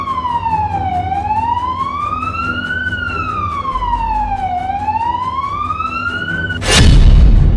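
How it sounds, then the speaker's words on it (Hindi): A siren wails steadily over Moscow, its pitch sweeping slowly up and down in long cycles, then a sudden loud boom breaks in near the end. "सायरन की चीखती आवाजों वाले शहर मॉस्को में दहल रहे लोगों की"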